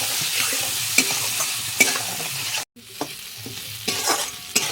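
Potatoes frying with turmeric, salt and spices in a pan give a steady close sizzle, broken by repeated scraping stirs and sharp clicks of a utensil against the pan, with a brief gap near the middle.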